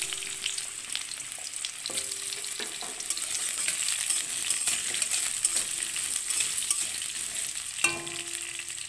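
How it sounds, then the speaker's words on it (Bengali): Potatoes frying in a pan for a vegetable curry, a steady close sizzle with occasional light clinks and scrapes from stirring. "আলুগুলো লাল লাল করে ভাজা হয়ে গেছে।"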